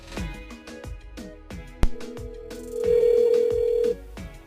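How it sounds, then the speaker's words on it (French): A telephone rings as a radio station calls a listener through the switchboard, with repeated ringing tones over a rhythmic music bed and one sharp click partway through. "Elle appelle Malika du côté du standard."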